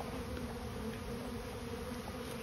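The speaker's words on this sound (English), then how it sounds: "The bees fanning." A swarm of bees fans at the entrance of a bait hive, making a dense, continuous close-up buzz that holds steady throughout.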